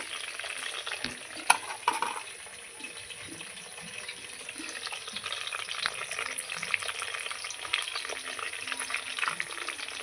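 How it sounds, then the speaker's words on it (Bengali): Potatoes fry in a pan under occasional stirring, a soft continuous sizzle punctuated by a few sharp knocks and scrapes of the spoon, close and fairly quiet without speech. "নাড়াচাড়া দিয়ে নেব লবণ দেব"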